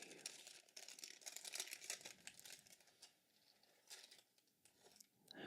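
Quiet, close crinkling of a small plastic bag holding stickers, in irregular rustling bursts that ease off midway and pick up again.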